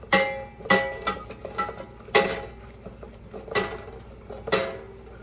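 Stirring a butter and flour roux in a pan: intermittent metallic clinks and scrapes of a utensil against the pan, a handful of distinct knocks spaced irregularly over a quiet sizzle-free background.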